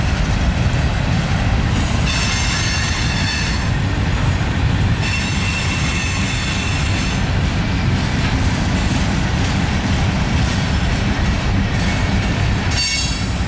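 A Norfolk Southern freight train with 25G power moves past near Alliance, with loud continuous rumbling, rhythmic clickety-clack from the wagons and high wheel squeals rising and fading over the whole stretch.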